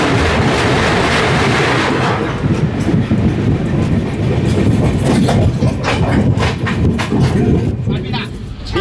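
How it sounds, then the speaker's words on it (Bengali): The 18409 Sri Jagannath Express, running from Shalimar toward Puri, rumbles loudly and continuously from onboard, with heavy low wheel noise and scattered rattling clacks over a dense, unbroken roar. "ট্রেন রওনা দিচ্ছে মেচেদার উদ্দেশ্যে"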